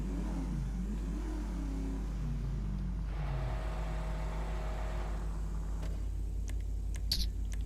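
In GTA Online, a rare Vagos gang vehicle pulls up at Los Santos Customs. The engine rises and falls in a revving pattern for the first few seconds, then settles into a quieter idle with a few faint clicks.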